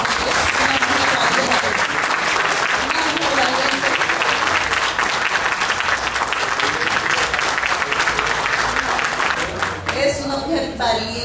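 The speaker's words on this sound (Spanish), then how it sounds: "para ella yo pido un fuerte aplauso" Loud, sustained applause from a crowd at a charity marathon closing, dense clapping with cheering voices mixed in, thinning out toward the end.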